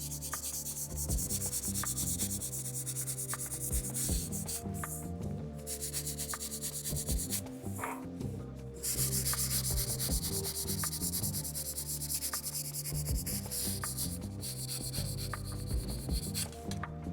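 Steady rubbing and sanding strokes on a comic book's wrap, a close, dry back-and-forth scraping that continues with a few short pauses and slight changes in pressure.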